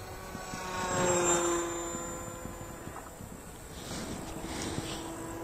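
A remote-controlled model Cessna 150 flies overhead, its small motor giving a steady whining buzz that swells as it passes nearer and then fades into the outdoor background.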